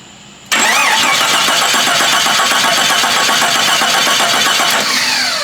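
Jeep 4.0L engine cranking during a compression test: a loud, steady, rapid rhythmic churning of the starter turning the engine over, starting abruptly after a brief quiet lead-in and running continuously to the end, with no voices.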